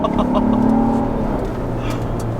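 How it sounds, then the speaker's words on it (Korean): A Ford Explorer 3.0 plug-in hybrid SUV engine revs up close by in sport mode, a steady rising drone with some faint voices underneath. "스포츠 모드로 놓고 그러면 이제 엔진이 살아나요."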